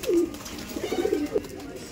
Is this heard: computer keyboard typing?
no